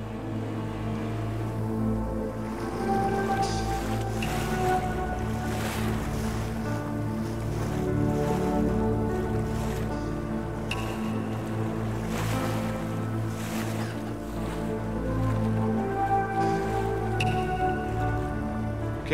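Small motor boats ferry tourists along the sea at the Blue Grotto in Malta, a steady engine drone running under waves and wind buffeting the microphone, continuous and fairly close throughout.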